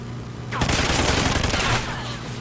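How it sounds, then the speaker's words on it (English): Machine gun fire in the video game Call of Duty Ghosts: a loud, rapid burst of automatic shots lasting about a second, with a steady hum underneath and faint voice nearby. "I'm gonna go with a little machine gun."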